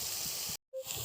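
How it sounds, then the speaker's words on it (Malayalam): Chopped onion sautés in a pan with a soft steady hiss, cut by a brief silent gap before the sizzle resumes, faint and close with no talk. "ഒരു വലിയ ഉള്ളി മുറിച്ച് വെച്ചിട്ട് അത് വഴറ്റിയെടുക്കുകയാണ്"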